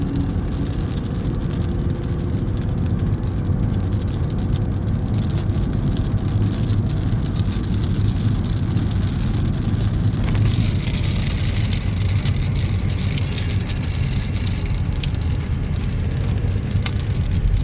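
Steady rain falls on a highway near Madurai as cars pass, a continuous loud wash of rain and road noise with no speech.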